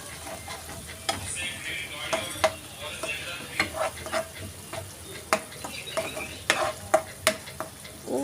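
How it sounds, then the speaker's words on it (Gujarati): Tomato paste made from two medium tomatoes sautés in hot oil for a cashew curry, a steady close sizzle broken by repeated clinks and scrapes of a stirring spoon against the pan, with no talking. "એને પણ સરખી રીતે સાતળી લઈશું. તેલ છૂટું પડે ત્યાં સુધી."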